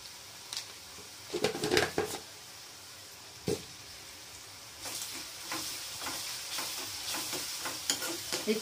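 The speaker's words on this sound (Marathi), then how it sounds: "हे छान परतून घ्यायचं।" Chopped onion and green chillies are sautéed in a pan. A few scattered stirring scrapes come first, then a steady close sizzle runs under repeated spatula strokes, with no talking.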